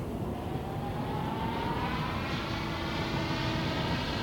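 A radio-controlled model airplane on landing approach on a windless day, a continuous loud engine drone with a slowly shifting pitch as it passes nearby.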